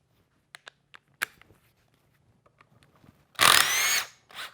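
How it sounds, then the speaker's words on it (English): A power tool, likely an impact driver, works Torx bolts off an oil cooler on a 6.0 diesel, heard as a short loud whirring burst near the end after scattered faint clicks and taps of handling. "take all those Torx bolts out"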